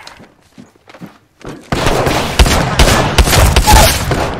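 Video game gunfire opening up after a quiet start: faint rustling gives way to loud, rapid shots and booming impacts, dense and close, with no talk.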